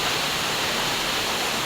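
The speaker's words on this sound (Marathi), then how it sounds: "आता धबधब्याप्रमाणेच भरलचं पाणी वाहतं आहे" Heavy monsoon rainwater pours down like a waterfall, a steady, dense rushing wash that stays even and unbroken throughout, with no voices over it.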